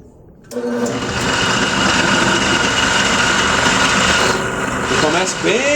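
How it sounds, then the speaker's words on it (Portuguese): A benchtop drill press adapted as a milling machine, being used to machine a piston for a model aircraft engine, runs with a steady, loud, vibrating mechanical whine that starts abruptly and carries on throughout, close up. "Isso daqui praticamente é uma furadeira de bancada."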